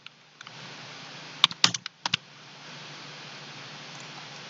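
Typing on a computer keyboard: a short, uneven burst of crisp key clicks clustered in the middle, close by, over a faint steady hum of background noise, with no talking.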